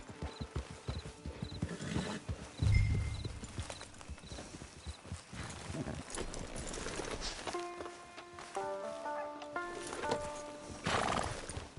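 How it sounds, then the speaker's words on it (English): Horse hooves clip-clop at a steady rhythm and a horse neighs partway through, set in the Western video game Red Dead Redemption, with game music and ambient sounds layered underneath. "Get your horse."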